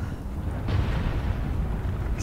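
A lightning strike cracks in Subnautica Below Zero, a sudden broadband burst swelling out of a low storm rumble and fading into a sustained roar.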